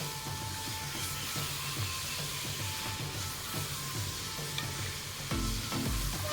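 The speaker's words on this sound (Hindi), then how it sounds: "लहसुन अदरक का पेस्ट इसके अंदर डाला है तो उसकी बुनाई हो रही है" Garlic ginger paste frying in ghee gives a steady close sizzle throughout, with occasional stirring scrapes and a brief louder clatter near the end.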